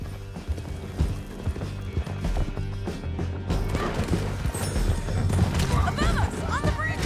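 Horse hooves clip-clopping with a neigh in Red Dead Redemption 2, mixed into a busy game soundtrack with music, crashes and shouted voices.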